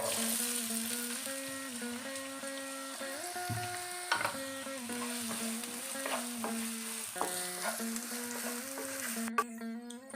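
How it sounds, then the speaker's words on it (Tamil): Onions sizzle steadily in hot oil for kadalai curry, a continuous crackling fry with occasional stirring clinks, a quiet tone humming in the background. "ரெண்டு வெங்காயம் நறுக்கி வச்சதை போடுறேன்"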